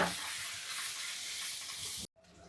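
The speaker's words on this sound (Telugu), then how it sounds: "ఇది కొంచెం వేగనిద్దాము ఒక ఐదు నిమిషాలు" Turmeric and chilli powder fry loudly in hot oil in a pan, a steady bright sizzle that cuts off abruptly near the end and returns fainter.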